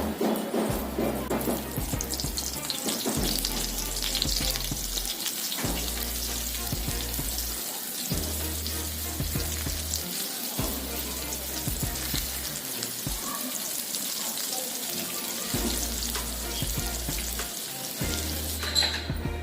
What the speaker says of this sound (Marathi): एक एक भेंडी अशी सोडायची तेलात